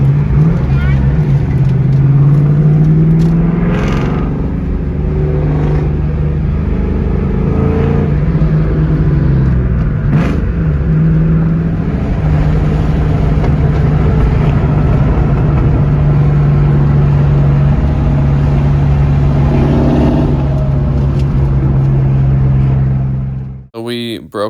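A yellow Ford Mustang Mach 1 cruises past with a loud, steady engine drone and a wavering low hum that rises and falls gently. A roaring rush builds near the end before cutting off abruptly.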